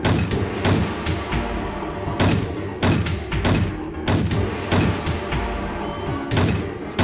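Enemy mech blown up in the Heavy Gear video game: a string of heavy thuds, crashes and booming blasts in quick succession, loud and close over a dense rumbling battle bed.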